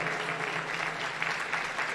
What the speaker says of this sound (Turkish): alkışlarınız değerli hocama gelsin